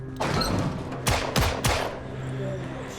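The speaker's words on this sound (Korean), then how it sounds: "총소리가 났는데?" Gunfire in the zombie survival game Project Zomboid, played with the THE ARK mod in a post-nuclear winter: three sharp, loud shots in quick succession over a low steady background hum.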